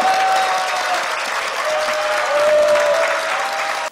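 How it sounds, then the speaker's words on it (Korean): Audience applause at a Korean press freedom foundation ceremony appointing a broadcaster as honorary ambassador, a full steady roar of clapping from a large crowd, with a faint tone running through it, ending abruptly. "여러분 큰 박수로 맞이해 주시면 대단히 감사하겠습니다."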